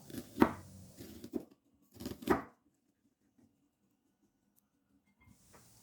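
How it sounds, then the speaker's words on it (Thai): An onion being sliced thinly with a knife on a cutting board, heard as a few crisp chopping taps in two short bursts before quiet. "ก็จะเป็นหัวหอมค่ะ จะนำมาหั่นบางๆ"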